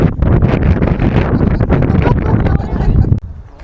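Strong wind at a viewpoint in South Australia buffets the microphone in loud, rough gusts, then drops off abruptly near the end.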